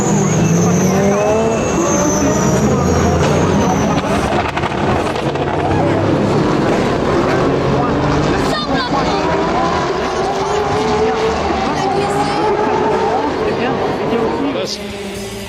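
Race cars at Spa-Francorchamps roar past in a loud, continuous engine drone with rising and falling pitch sweeps as a car spins during a crash, while commentators talk over it throughout.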